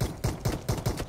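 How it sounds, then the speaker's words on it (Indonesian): Five evenly spaced handgun shots ring out in quick succession in PUBG Mobile, crisp and fairly close, with no talk over them. "Nah, cuma handgun."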